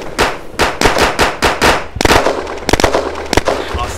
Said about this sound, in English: I'm shooting, I cannot see the other.